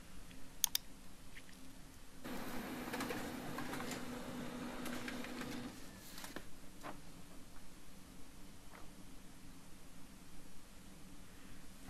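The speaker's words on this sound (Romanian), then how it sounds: "Imprimăm o pagină de test." A Xerox B210 laser printer runs a test page with soft clicks, then a few seconds of steady mechanical whirring and feeding noise that stops, followed by faint ticks in a quiet room.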